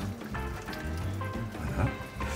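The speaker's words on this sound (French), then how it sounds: "On va ajouter un petit peu de bouillon de viande pour finir de les cuire" Meat broth is poured into a pan of braising carrots for beef cheek, giving a close, busy sizzle and splashing pour with crackling bursts across the whole short stretch.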